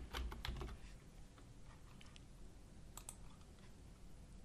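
Typing on a computer keyboard while working in Power BI, faint quick clusters of key clicks at the start and again midway, over a quiet room background.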